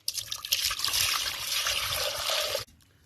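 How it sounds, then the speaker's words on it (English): Fresh water pours steadily into a cooking pot for Korean gamjatang, a loud, close splashing rush that runs for over two seconds and then stops abruptly, leaving a quiet tail. "we're just going to add in some fresh water"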